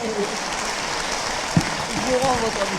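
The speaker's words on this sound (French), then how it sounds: "On vous applaudit une nouvelle fois." An audience at a talk on hearing loss and Alzheimer's gives a steady round of applause, with people speaking over it.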